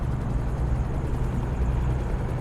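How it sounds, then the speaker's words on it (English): A helicopter passing in American Truck Simulator with a sound-fixes mod, a loud low rotor rumble blending with steady road drone and holding fairly even across the moment. "You hear that chopper noise? That's part of that Sound Fixes mod too."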